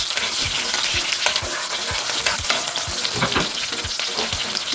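Onions fry in oil in a pan with a loud, constant sizzle, broken by regular scraping knocks of stirring.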